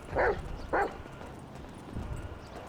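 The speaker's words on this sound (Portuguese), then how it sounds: "É o Chop, o Rottweiler, esse cachorro." Chop the Rottweiler from GTA V barks twice in quick, sharp succession, fairly close and loud, followed by quieter low background game noise.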